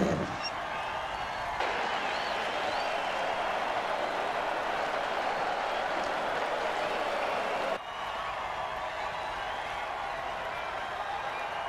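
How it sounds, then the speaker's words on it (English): A football crowd roars after a touchdown, a dense, steady wall of cheering that holds at an even level for the whole stretch, with a brief dip midway. "Listen to this crowd."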